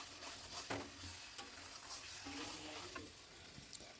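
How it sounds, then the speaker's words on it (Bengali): Onions frying in chicken fat in a pan give off a soft, continuous sizzle, with light stirring scrapes now and then, heard close and fairly quiet. "পেঁয়াজটা ভাজা ভাজা করছি"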